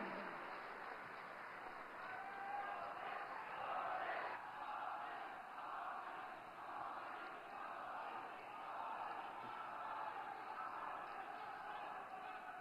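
Sustained applause from a large audience welcoming Prime Minister Narendra Modi at the inauguration of AIIMS hospitals in Rajkot, a steady broad roar of clapping that swells and eases slightly throughout, with no speech over it.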